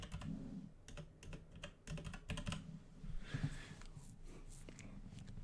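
Quiet, close tapping on a computer keyboard as a command is typed, with uneven clusters of keystrokes separated by brief pauses and a low background hum.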